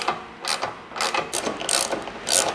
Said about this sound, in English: you just want to tighten these down until you see that rubber on the washer kind of start to squish out